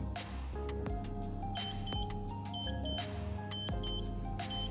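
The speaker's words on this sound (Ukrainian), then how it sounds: "Таймер спрацював, подається звуковий сигнал" An oven timer gives repeated short electronic beeps while the oven keeps running with a steady mechanical hum, with intermittent clunks and background noise throughout.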